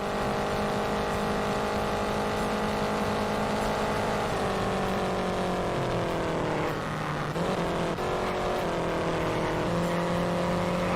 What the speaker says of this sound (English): I can hear the car come around the outside